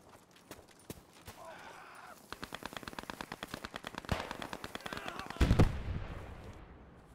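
Rapid gunfire crackles in Post Scriptum, a long rattling string of shots at mid distance that swells toward a louder close burst near the end, with faint voices underneath.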